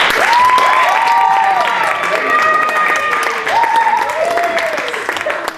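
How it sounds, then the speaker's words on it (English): An audience at an improv comedy show claps loudly and continuously, mixed with cheering voices and whoops that rise and fall over the applause before it tapers off. "Can you give me a clap for Michael and Frank again, please?"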